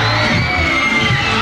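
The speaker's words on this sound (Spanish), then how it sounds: "Un aplauso fuerte, por favor, para Elvis Reencarnado." Audience at a Halloween costume show cheering, whooping and shouting loudly in a dense, continuous crowd roar, with a few bangs mixed in.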